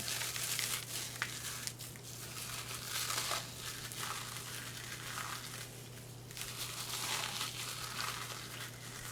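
Out-of-date food being broken into crumbs by hand for meatloaf, giving a steady crinkly crumbling that runs throughout with repeated louder crushing bursts, close up over a constant low hum.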